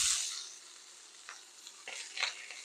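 Corn kernels sauté in very hot avocado oil in a cast iron pan, giving a steady close sizzle with a few scraping stirs toward the end and no talking.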